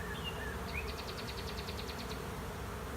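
Honey bees fan at the entrance of a hive where a swarm has moved in, a faint continuous buzzing hum under a low background drone.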